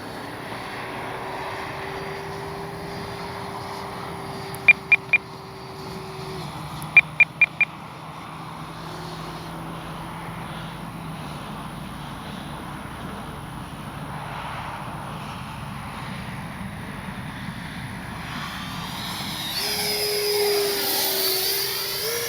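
F9 Cougar 80mm RC jet from HSD Jets on its maiden flight, a faint steady turbine whine passing at a distance with a few brief clicks, swelling louder near the end as it comes closer.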